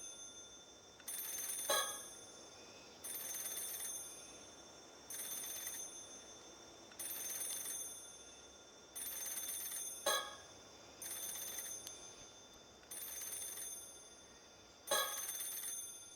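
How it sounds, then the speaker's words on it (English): In the video game Paranormasight, a telephone keeps ringing in a regular pattern of short bright bursts separated by brief pauses, about eight rings in a row, quiet and alone, with occasional sharp clicks between them. "Sato, the phone's ringing."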